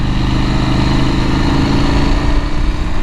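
2024 KTM 890 SMT motorcycle engine running steadily and loud while riding on cold, wet roads, a continuous close drone with a slight rise near the end and no talk.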